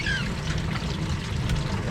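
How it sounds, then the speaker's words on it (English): An RV waste tank being flushed with water gives a continuous rushing, gurgling flow, close and fairly loud, with a faint high squeak at the start. "It starts to flush the tank."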